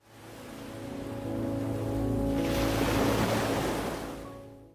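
Sea waves wash onto the shore in a steady, loud rush of surf that swells toward the middle and eases off again, with wind noise and no voices.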